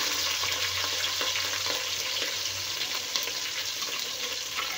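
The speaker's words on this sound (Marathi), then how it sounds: "आता घालूया कांदा, हिरव्या मिरच्या" Chopped onion and green chillies sizzle in hot oil with cumin for tomato tamarind rasam, a dense continuous frying hiss close by with faint stirring ticks, and no talking.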